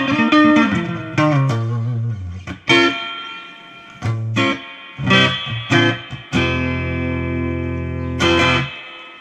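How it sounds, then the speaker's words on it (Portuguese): Guitar played through the reverb of a Giannini Tremendão amplifier, chords and single notes ringing out with distorted, echoing tails across several phrases, loud and alone. "Nossa, esse reverb, coisa linda."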